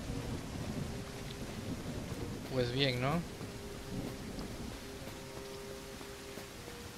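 Steady rain hiss fills a rainy day in the survival video game Surroundead, with a low rumble beneath; a person speaks briefly partway through over the continuous wash.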